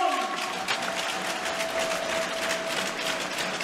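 Crowd applauding a handball goalkeeper at a club farewell ceremony, a steady dense wash of clapping that holds at even loudness throughout, with a faint sustained tone running underneath.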